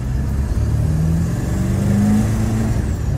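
A McLaren sports car accelerates hard while merging back into traffic, its engine giving a loud, steady, close drone throughout with no talking.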